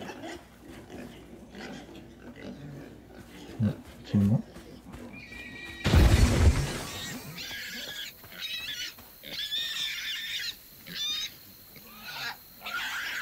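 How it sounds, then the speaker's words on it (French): Squeals and grunts from a small lone pig in the video game South of Midnight, a burst of short, shrill cries after a loud thump, with someone talking over much of it. "il y a un petit cochon tout seul là. Arrête de couiner."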